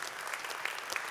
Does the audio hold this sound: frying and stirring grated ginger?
no